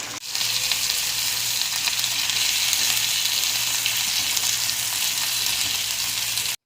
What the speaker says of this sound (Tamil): நாங்கள் தவாலே வந்து நாங்கள் ஃப்ரை பண்ணிடுறது மீனை